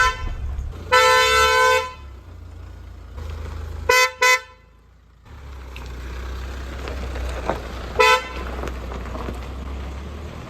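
Creta car horns fitted to a Mahindra Thar Roxx honk loudly outdoors: one long blast, two quick short toots, then another short honk, over a steady low engine idle.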